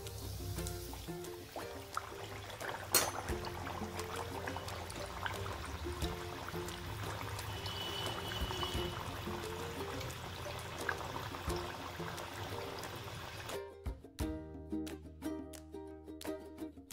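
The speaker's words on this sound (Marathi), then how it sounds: "आपलं तेल आता गरम झालेलं आहे. आपण त्यात एक एक पुरी सोडून तळून घेणार आहोत." Puris slipped one at a time into hot oil for spicy matar (green pea) puri, giving a steady, close bubbling sizzle that runs loud and unbroken before cutting off near the end.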